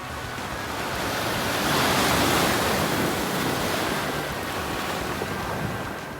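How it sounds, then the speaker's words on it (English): Small waves wash up and recede across a beach of small stones on the Barra de Navidad waterfront, a steady close hiss of surf and trickling water with light wind noise, swelling slightly mid-clip, no voices. "Listen to the sound the water makes as it recedes across these small stones"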